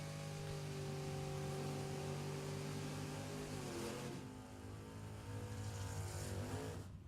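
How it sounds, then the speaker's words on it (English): Drag racing cars doing burnouts at Kil-Kare Dragway, engines holding a loud, steady high rev with strong harmonic drone, pitch dipping and shifting midway, heard from nearby without talk. "Burnouts complete."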